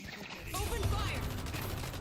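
Video game gunfire rattles in a rapid, faint volley of shots, quiet and steady, with a voice speaking over it.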